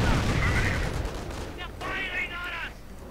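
A grenade bursts in Company of Heroes, a heavy low rumble at the start that fades under ongoing battle noise while a commentator talks over the game.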